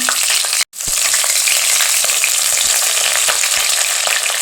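Garlic and curry leaves frying in hot oil, a loud, dense crackling sizzle heard close up, briefly cut to silence near the start, then continuing with scattered pops.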